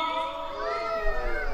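A crowd at a carnival in Tecozautla, Hidalgo, lets out a brief collective shout mixed with children's voices, the cries rising and overlapping over a short burst.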